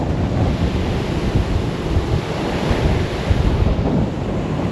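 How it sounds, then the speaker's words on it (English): Ocean surf rolls in a steady, loud wash at the shore on Nantucket, with heavy wind buffeting the microphone throughout and no voices. "just look out at the open water and feel the wind on your body"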